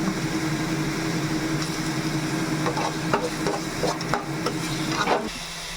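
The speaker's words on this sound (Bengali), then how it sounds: "এবার আমি একটু আদা রসুনটা দিয়ে ভাজা ভাজা করবো" Ginger and garlic paste fries in a little oil in a pan for a katla fish curry, a steady close sizzle broken by a run of rhythmic scraping stirs toward the end.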